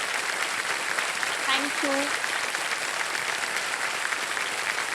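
Studio audience on the KBC quiz show clapping to welcome a contestant, a steady wash of applause running throughout while a voice briefly speaks over it.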